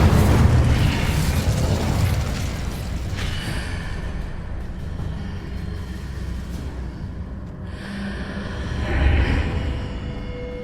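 Spell explosions burst in the video game Hogwarts Legacy, with booming blasts and rumbling bursts over a dense, continuous game soundscape and a louder swell near the end.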